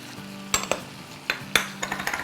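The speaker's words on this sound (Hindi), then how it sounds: "अब हम इसको मिक्स करेंगे। दही को, टमाटर को, सबको मिक्स कर लें अच्छी तरह।" A utensil stirs yogurt and tomato puree in a pot for achari chicken, a steady sizzle under repeated sharp metallic scrapes and clinks against the pot, close and without voices.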